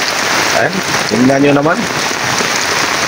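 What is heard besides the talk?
heavy rain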